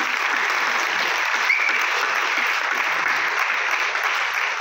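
An audience claps in thanks, a dense and loud wash of applause that holds steady for several seconds without pause or voices.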